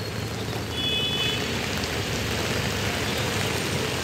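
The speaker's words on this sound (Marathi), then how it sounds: "सध्या जोरदार पाऊस सुरू आहे" Heavy monsoon rain in Mumbai pours down as a steady, even hiss with no gaps, moderately loud and unbroken by voices.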